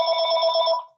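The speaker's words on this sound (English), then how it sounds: "Sorry about the phone." A telephone bell rings steadily for about a second, close and clear, fading at the end, with no talk over it.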